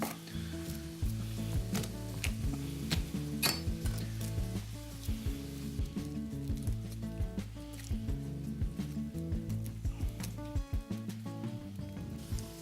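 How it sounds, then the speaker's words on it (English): Bacon, onions and garlic sizzle steadily in a hot pan, with frequent clinks and scrapes of a utensil stirring against the pan and no talking. "We'll get our onions and garlic going in there. We'll let that kind of saute for a bit"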